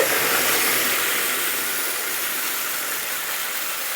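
Buttermilk spoonfuls added to hot homemade ghee in a pan over a low gas flame, giving a steady loud broadband sizzle and hiss that eases slightly over four seconds.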